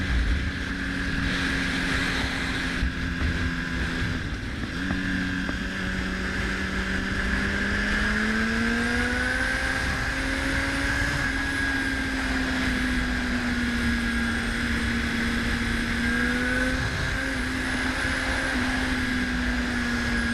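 A Honda CBR1000RR sport motorcycle ridden on a bright, clear day: a steady engine drone whose pitch rises and falls with throttle and gear, wrapped in constant wind rush, with no talking.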